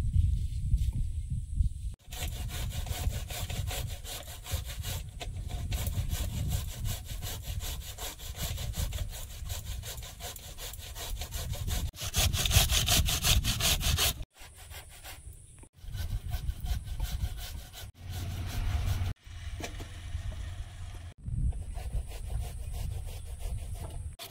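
Radish being grated by hand on a grater for frying, a continuous rough rasping scrape in steady strokes, close and loud, broken by brief pauses.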